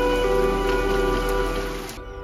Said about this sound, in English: I'm glad I did, because it's raining.